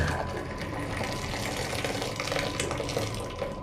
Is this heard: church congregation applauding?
no